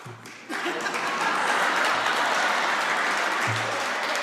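An audience at a governor's speech breaks into steady, full applause that rises quickly and carries on evenly for several seconds, with a faint bit of speech at the edges.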